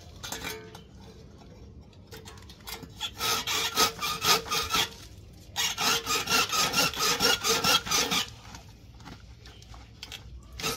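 Rhythmic rasping strokes of a hand saw biting through a lemon tree branch, close up, in two steady bursts separated by a short pause.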